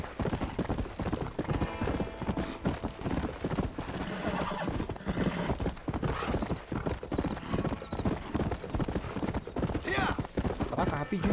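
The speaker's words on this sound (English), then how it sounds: "O cavalo aqui é muito rápido." Horse hooves galloping in Red Dead Redemption, a fast continuous clip-clop rhythm with a brief whinny, thick game ambience, and a person talking over it.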